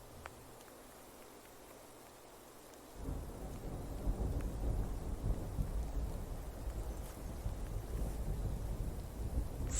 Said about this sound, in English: it starts to rain, and far away in the distance, you hear a low rumble of thunder